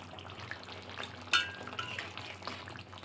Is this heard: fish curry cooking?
yes